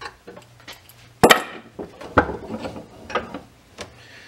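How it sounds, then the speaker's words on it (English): A pressure washer hose compression fitting being tightened by hand, giving a few sharp clicking and ratcheting snaps amid softer handling rustles, close and alone. "you're going to want to tighten this down the entire way until the two pieces meet and are snug"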